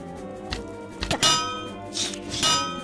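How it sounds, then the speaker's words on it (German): Shield shattering in a Minecraft adventure map: a few clanging, clinking impacts spread across a couple of seconds, moderately loud, with background game sounds and no talk. "Mein Schild ist zerbrochen."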